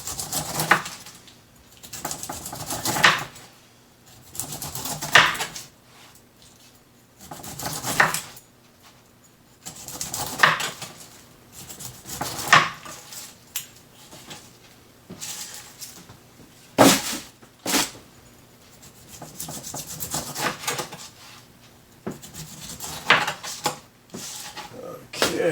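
A knife shaving down the tough skin along the sides of a pineapple, repeated rough cutting strokes in regular bursts with pauses between them, close and fairly loud with occasional knocks on a cutting board.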